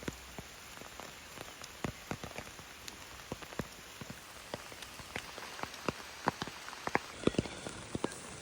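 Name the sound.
rain falling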